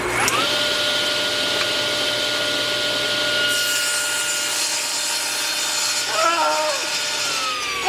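A table saw set to a quarter inch rips a board, its steady high whine and cutting hiss holding throughout, close and loud, before the blade spins down near the end; a voice is faintly audible.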